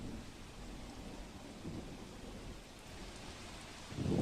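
Heavy rain with thunder at Mangrol on the Junagadh coast makes a steady, dense wash of downpour and low rumble, with no one speaking.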